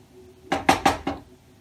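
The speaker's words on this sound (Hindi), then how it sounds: "ध्यान रहे हमें इसे बीच बीच में कंटिन्यू चलाते रहना है" A spoon scrapes and clinks against a metal pot of boiling milk for kulfi in four quick, close strokes, then the stirring falls quiet.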